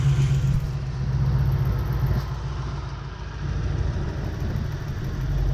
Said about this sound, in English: Tells me we're idling at 700 RPM, or 625 RPM.